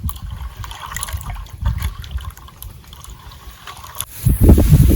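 Jackfruit pieces being washed in water in a village kitchen give a steady sloshing and trickling, with louder splashing near the end and no talk.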